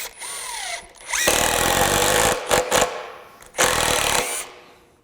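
A Metabo HPT 18V MultiVolt brushless impact driver (WH18DEX) whines as it ramps up, running in two loud, close bursts with a short stutter between them, then winding down to quiet.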